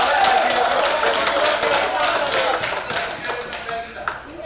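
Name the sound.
council members clapping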